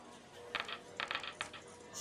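Dice thrown onto a craps table during a live roll, giving a few quick clattering bursts of tumbling and bouncing, fairly faint, with no talk over them.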